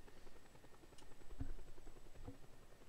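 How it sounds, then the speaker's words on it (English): A helicopter flies in the video game Just Cause 2, its rotor drone low and steady over game ambience, with a few brief thumps around the middle. "Oh, there's another helicopter."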